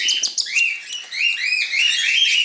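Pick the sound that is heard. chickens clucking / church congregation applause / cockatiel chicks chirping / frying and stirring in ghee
cockatiel chicks chirping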